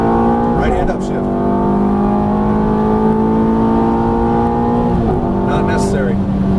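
Ferrari F430 engine on a Las Vegas racing circuit, loud and close, holding a high sustained rev with a quick dip and re-climb at each upshift, under an instructor's voice.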